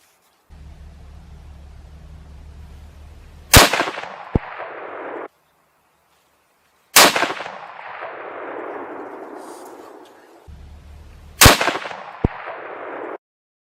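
Three sharp rifle shots of Remington Core-Lokt 7mm-08 140 grain ammunition while hunting whitetail deer in Tennessee, each a loud crack followed by a long rolling echo and decay.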